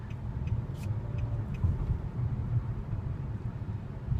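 A steady V6 engine drone and road rumble inside a 2016 Nissan Maxima SL with a CVT as it accelerates, even and continuous with no talking.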